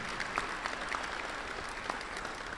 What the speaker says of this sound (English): You can go ahead and clap for them.